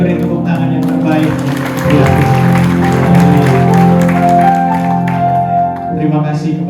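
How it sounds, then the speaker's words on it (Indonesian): A church congregation at an evening prayer service claps loudly over sustained music with strong tonal notes, the applause rising and swelling midway before easing off at the end. "Sekali lagi beri tepuk tangan yang terbaik."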